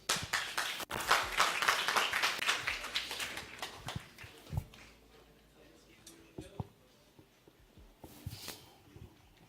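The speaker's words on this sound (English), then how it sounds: "Let's give a round of applause." Audience clapping at a hackathon demo day swells for a few seconds, then thins out into scattered claps and faint room noise as the applause fades.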